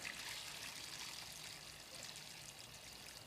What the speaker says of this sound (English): So I'll take the first siphon of water off here.